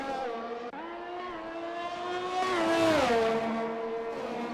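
F1 race car engines in a racing video game scream at high pitch, rising and falling through gear shifts and revs, with one car's note sweeping up and then dropping as it passes.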